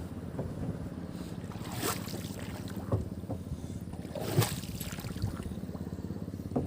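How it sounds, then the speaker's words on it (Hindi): A rowboat glides along a river under the bridge at Chahlari Ghat in eastern Uttar Pradesh, with soft rhythmic water lapping, occasional splashes and steady wind rumble. "नाव चला रहे हैं।"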